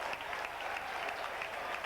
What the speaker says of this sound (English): Even the Scarborough fans applauded.